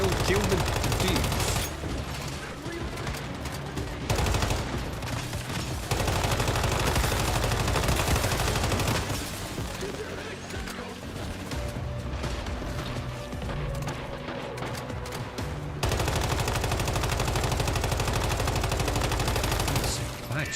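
Loud, sustained automatic gunfire in the survival shooter Once Human, long dense bursts with brief pauses in between, close and dominant, with occasional talking underneath.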